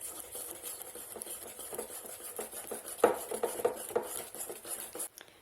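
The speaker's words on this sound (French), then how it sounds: "Donc je finis le lait et on fouette énergiquement." Whisk beating beignet batter of flour and milk vigorously in a bowl, a steady clattering scrape of metal against the bowl with sharper taps near the middle, close and fairly quiet.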